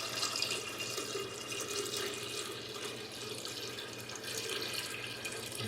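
Steeped tea is poured gently onto a kombucha SCOBY, a continuous soft splashing trickle of liquid running steadily for several seconds at close range.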